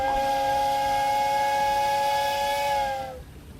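A steam locomotive's whistle sounds at a station platform: one loud, steady, multi-toned blast lasting about three seconds before cutting off into quiet.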